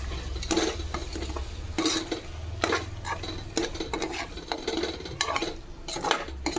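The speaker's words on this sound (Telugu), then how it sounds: "మంచిగా ఇలా కలుపుకోవాలి" Coriander paste mixed into chicken roast in a pan, with scraping spoon strokes and metal clinks against the cookware in an irregular rhythm over a soft background sizzle.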